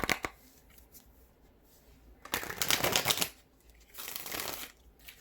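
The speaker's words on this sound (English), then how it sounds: "Let's go ahead and pull a few tarot cards." Tarot cards are shuffled by hand in two brisk bursts with a light riffle and flutter, close and fairly quiet, separated by soft handling rustles.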